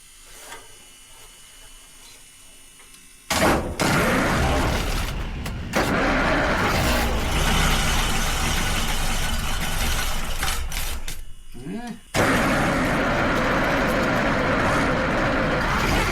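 A roughly 100-year-old moonshiner's car, parked for 55 years, is being restored. After a quiet stretch its engine cranks and catches, then revs loudly and close, dips briefly, and roars up again.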